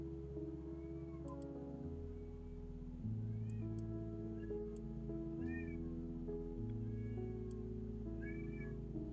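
A domestic cat meows several times in short rising calls over a steady low hum, fairly close and clear, with no talking.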